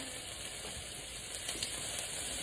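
Butter sizzles in a hot pan for a steak stir fry, giving a quiet, steady hiss with faint crackling and no talking.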